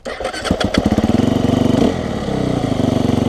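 A Sherco 300 SEF-R Six Days enduro motorcycle starts up, blips its throttle in sharp bursts, then pulls away with a steady, rhythmic single-cylinder engine pulse that stays close and loud, rising and dropping through gear changes.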